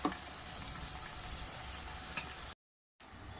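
Onions sizzle with whole spices in a hot pan, a soft, constant crackle with a few small pops, broken by a brief gap of silence near the end.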